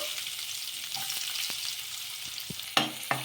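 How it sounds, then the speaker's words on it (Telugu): Finely chopped onions stirred into a pan with cumin and mustard seeds give a steady close sizzle, with a few brief spatula scrapes and two sharper clinks near the end; nobody speaks. "చిన్నగా కట్ చేసి పెట్టుకున్న ఆనియన్ ముక్కలు"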